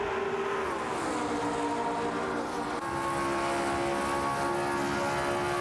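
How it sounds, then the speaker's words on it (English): Race car engines in a racing video game, including a Matra MS7, droning steadily with sustained revving tones that shift pitch as cars pass, loud and continuous with no voices. "Twix 560 is behind the wheel of a Matra MS7"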